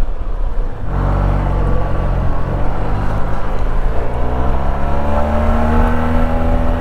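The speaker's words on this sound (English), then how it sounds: "it's got a nice note to this engine." A Yamaha TMax scooter engine revs up steadily and loudly, its tone climbing and holding a smooth, continuous note while riding through town, with no talking.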